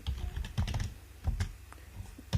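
Typing code on a computer keyboard, a quick run of close key clicks in an uneven rhythm with no talking.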